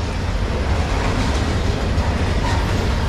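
CSX M409 freight train rolling past close by, a loud continuous rumble of wheels and cars with faint rhythmic clatter, no voices.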